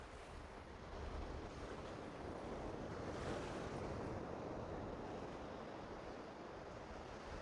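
Ocean waves at Pawleys Island beach, a continuous broad wash of surf mixed with wind noise, steady and moderately distant with no talking.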